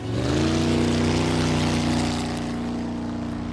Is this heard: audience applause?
no